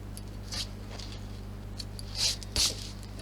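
Scissors snip thread tails off a purse, a few crisp close cuts with two louder snips near the end, set against a quiet steady hum.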